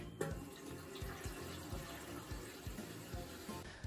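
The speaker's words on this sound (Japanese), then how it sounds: "まずはこの透明なケースにお湯を溜めていきます。" Hot water running into a clear plastic case, a steady splashing stream heard faintly and close with a soft rhythmic gurgle as the case fills.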